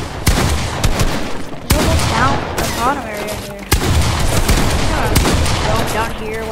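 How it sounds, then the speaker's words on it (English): Dense, loud gunfire bursts in a Fortnite box fight, rapid automatic shots with heavy impacts layered close together, mixed with game effects and a person talking over the shooting. "while there's a bunch of shooting happening"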